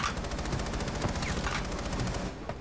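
Rapid automatic gunfire in Rainbow Six Siege rattles continuously at close range, dense bursts overlapping for a few seconds before tapering off, with no talk over it.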